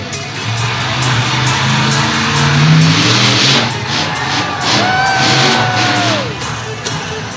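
A monster truck engine roars and revs hard for a jump over a row of cars, a loud rising growl that swells and fades, with a crowd faintly cheering behind.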